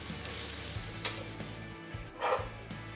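A metal utensil scrapes and folds fried rice with chorizo around a metal pan, giving faint scraping and stirring over a soft, steady sizzle, with a couple of brief clinks.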